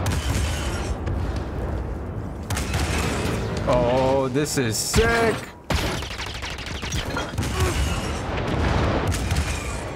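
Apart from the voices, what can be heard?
walker cannons firing in video game Star Wars Jedi Fallen Order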